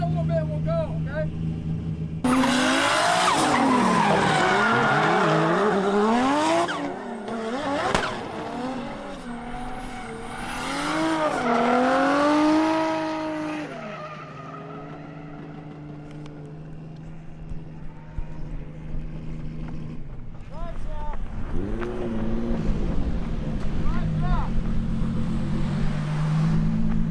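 A BMW E36 swapped with a 1JZ engine drifts, its engine revving and wailing in rising and falling sweeps while the tires squeal and screech through the slides. The car is loud and fairly close, and people talk now and then.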